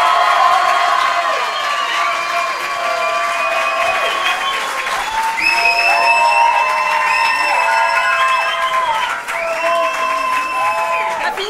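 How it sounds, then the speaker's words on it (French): Studio audience applauding and cheering for a comedy duo about to try out a new sketch in public at a French talent show, sustained loud clapping with shouts and whistles throughout. "On applaudit bien fort Ingrid et Eva"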